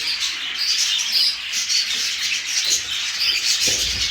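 Budgerigars in a breeding cage raising chicks, a continuous busy chorus of high chirps, warbles and squawks from several birds, fairly close and loud, with a faint thump near the end.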